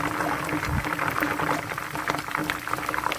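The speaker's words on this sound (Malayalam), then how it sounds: "നമ്മൾ ഈ ഒരു എണ്ണയിൽ ഇതുപോലെ കറിവേപ്പില ഫ്രൈ ചെയ്തെടുക്കാനും മറക്കരുത്" Curry leaves fry in hot oil for jackfruit chips, a continuous bubbling sizzle with scattered sharp crackles and pops, close and fairly loud, no voices.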